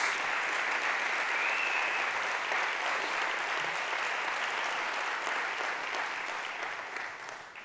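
Church congregation clapping together after a Sunday evening sermon, a dense steady wall of applause held loud for several seconds and then slowly tapering off near the end.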